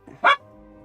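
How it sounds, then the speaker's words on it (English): A dog gives one short, sharp bark at middle distance, loud and alone, with a faint low hum carrying on after it. "Did y'all hear that dog?"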